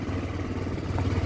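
A motorcycle engine grinds at a low, steady hum while the bike works along a rough, tough dirt road on the Chauki Danda route in Chitwan, with no talk.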